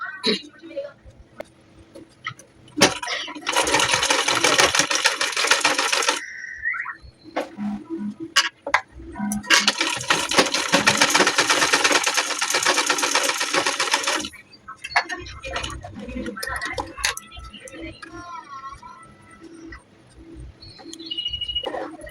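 A sewing machine stitches a drawstring into a Modhubala-style blouse in two long loud whirring runs, with clicks, fabric handling and a voice speaking in the pauses between them.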